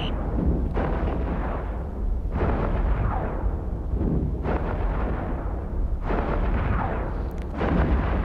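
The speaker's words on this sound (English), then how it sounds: "Barrage engaged, gyro stabilizers engaged." Heavy weapons barrage in the space game EVE Echoes, a continuous loud roar of booming artillery-like blasts with a fresh impact every second or two and no pauses.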